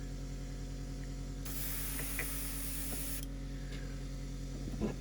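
Airbrush spraying paint on a studio-scale Star Wars Dornian Cruiser model, a soft steady hiss rising for about two seconds over a constant compressor hum, then fading back to the hum.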